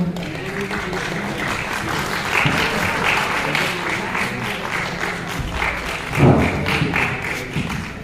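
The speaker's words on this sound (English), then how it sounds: "Please clap for them." An audience at a college freshers' meet gives a sustained round of applause. The clapping is dense and steady, with a few louder thumps and taps near the middle and faint voices underneath.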